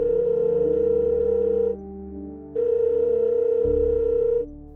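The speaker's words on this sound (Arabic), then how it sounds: "وفجأة تليفون البيت رن." A home landline telephone ringing in two long electronic tones, each lasting under two seconds with a short pause between, loud, steady and alone.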